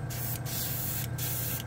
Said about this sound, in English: I'm spraying, by the way, can you see it?